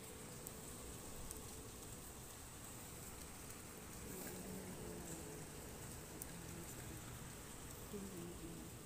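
Night rain in London falls as a soft, steady patter on surfaces, quiet and continuous throughout with no voices.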